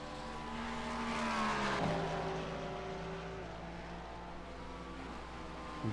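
Several GT3 race cars during an IMSA sim race, engines droning loudly and continuously, with a rising then falling pitch sweep around the middle as cars pass, and no talk.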